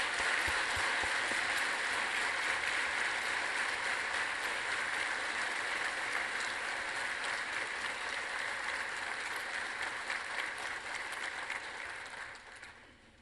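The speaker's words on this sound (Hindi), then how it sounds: "मैं आप सभी को खड़े रहकर उनका ताली के साथ स्वागत करने" A large conference audience stands and applauds in dense, sustained clapping that stays loud and even for several seconds, then fades out toward the end.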